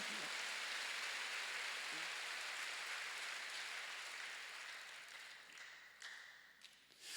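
A congregation at a church service claps in a dense, steady patter of applause. The clapping is moderately distant and thins out toward the end, leaving a few scattered claps.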